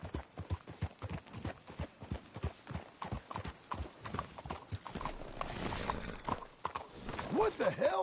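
Horses' hooves clip-clop steadily in Red Dead Redemption, a brisk rhythmic series of close, loud hoof strikes that slows and settles toward the end, with a brief whinny and some voices talking alongside.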